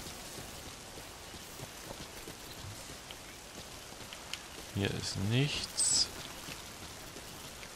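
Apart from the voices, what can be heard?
rain in the video game Metal Gear Survive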